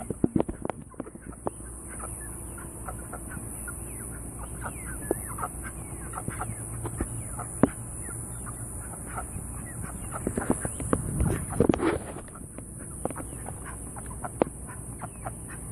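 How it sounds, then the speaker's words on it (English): Chickens and ducks in a backyard flock cluck and call in a steady, close chorus of short notes, with a brief louder flurry of flapping or scuffling near the end. "My ducks and my chickens."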